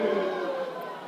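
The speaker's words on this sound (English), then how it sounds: "And we hear some booing from the stands." Crowd in the stands at a beach-style volleyball final played on water, booing loudly and continuously, a dense wash of voices under a commentator's talk.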